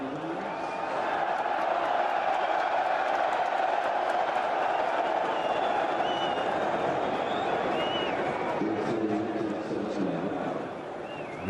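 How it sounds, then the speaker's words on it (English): A large racecourse crowd at the Cheltenham Festival roars in a sustained, swelling cheer as a hurdle race gets under way, loud and continuous for the whole stretch with a faint voice underneath. "I'll let the crowd do the talking as they begin to move forward."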